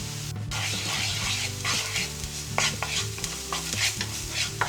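Spices and cauliflower sauce ingredients toast in a pan, with close, quiet stirring scrapes and faint sizzling, plus a low steady hum underneath.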